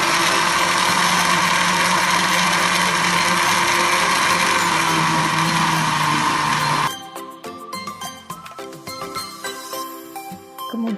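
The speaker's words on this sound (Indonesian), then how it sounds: "Prosedur kerjanya didahului dengan menghaluskan mangga menggunakan blender." An electric blender purees mango for homemade ice cream, giving a loud, steady whirring drone for about seven seconds that cuts off abruptly, followed by clinks and clatter of handling.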